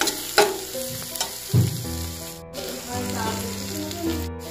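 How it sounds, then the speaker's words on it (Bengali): Chilli, salt, cumin and turmeric sizzling in a pan for paneer bhurji, a close crackling fry with stirring scrapes and a low tonal hum running underneath. "একটু জিরে গুঁড়ো, একটু হলুদ গুঁড়ো দিয়ে একটু ভাজা ভাজা হবে"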